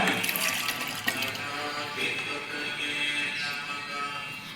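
Soaked masala grains in their water are poured into a pot of veg salna, giving a continuous, fairly faint pouring and sloshing of liquid with a small splash near the start.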